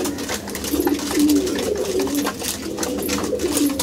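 Pigeons coming to feed after being paired give repeated soft, throaty coos, close and clear over a low background hum, with no talking.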